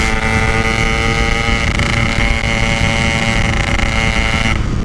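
A Yamaha RX King two-stroke motorcycle with a 153 engine runs steadily and loud on a road, holding a constant droning pitch with wind buffeting throughout, then cutting off abruptly near the end.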